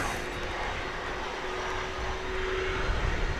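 Three-engine McDonnell Douglas MD-11 airliner passing near DFW Airport, its engines a steady, broad roar that holds for a few seconds and swells slightly toward the end, with no talk over it.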